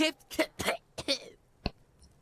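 A character in the video game Disco Elysium gives one short, sharp cough, close and clear, after a stretch of spoken voice.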